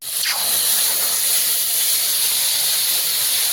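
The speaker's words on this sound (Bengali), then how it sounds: "তরকারিতে জল পড়ে গেল" Water splashing into a hot pan of curry sets off a loud, steady steamy hiss and sizzle that starts abruptly and holds for a few seconds, with no talking.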